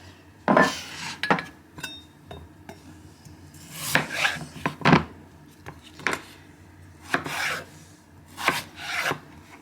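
A knife dicing carrots and potatoes small on a board for pasties, sharp irregular chopping taps and scraping rubs up close, with clattering kitchen sounds between cuts.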